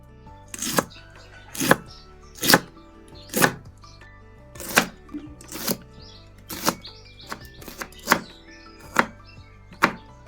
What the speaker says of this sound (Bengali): এবারে শিমগুলো একটু কেটে নিই